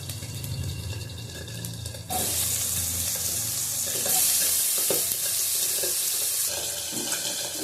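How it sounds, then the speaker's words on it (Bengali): Raw jackfruit pieces dropped into hot oil in a wok burst into a loud, continuous close sizzle after a quieter start, with faint stirring scrapes and no voices. "এই তেলের মধ্যে দিয়ে দেবো ইঁচড়।"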